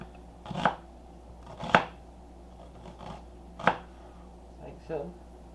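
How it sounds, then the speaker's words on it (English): A knife cuts through a very large onion on a board, five separate crisp chopping thuds spaced about a second apart, close and clear against faint background hum. "Now how I like cut my onion, and this is a very large onion"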